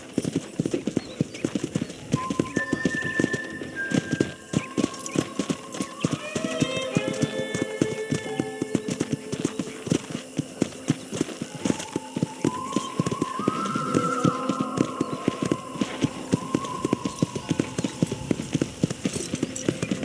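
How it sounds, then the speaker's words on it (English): A horse walks with steady, close clip-clopping hooves in Red Dead Redemption, the rhythm continuing throughout while other sounds and some speech come and go underneath. "I picked out a fine horse for you. Come on, boy."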